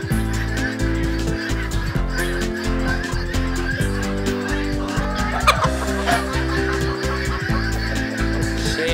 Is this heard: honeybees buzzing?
no